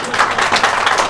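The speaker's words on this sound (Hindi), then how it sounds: "तालियां बजा दे।" A seminar audience claps together in a dense burst of applause, loud and close, lasting about a second with no voices over it.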